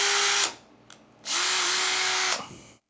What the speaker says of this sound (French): On va pré-percer un trou juste ici.